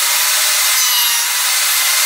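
A saw cuts a notch in wood for a 5E3 tube amp cabinet, producing a loud, steady, close rasping with no talking.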